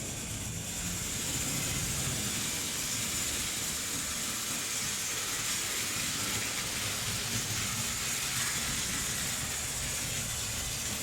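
A Märklin 3082 DB BR41 model steam locomotive with a smoke unit runs around its track, giving a steady whirring, hissing rumble that stays close and even throughout.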